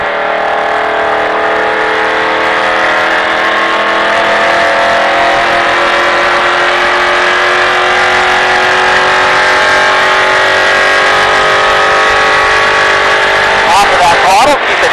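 A NASCAR stock car races around a track in Las Vegas, its engine holding a loud, steady roar heard from the cockpit, with a brief change in pitch near the end as a voice coaches over it.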